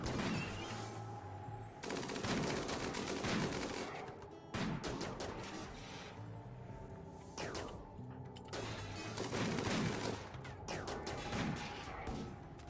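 Gunfire rattles through a RimWorld battle in long bursts of rapid shots, broken by short lulls and clattering impacts, fairly loud and dense with no talk over it.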